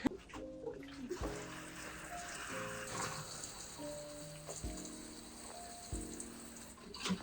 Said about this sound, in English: Time to water the little babies.